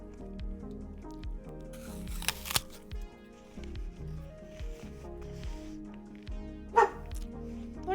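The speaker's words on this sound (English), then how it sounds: "What are you barking at?" A dog barks and yips a few times at a moderate distance, with short whimpering sounds and light rustling between the barks, and one louder sharp bark near the end.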